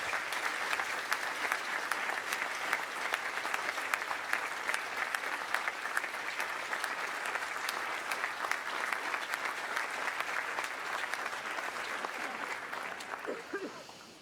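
A large commencement audience at Harvard University's 2018 ceremony applauds in honor of Drew Faust, a long, sustained roar of crowd clapping heard from a distance that holds steady for over ten seconds before thinning at the end.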